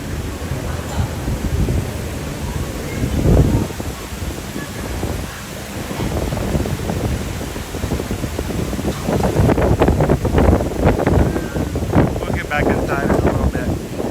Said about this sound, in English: Apologize for the wind coming through.